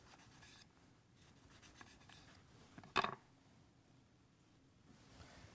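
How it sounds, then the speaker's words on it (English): A knife cuts a mandarin into thin orange wheels for a ginger pitcher drink, heard as quiet scraping strokes on a board with one sharper chop near the middle, close and alone. "I'm going to cut about 6 slices here."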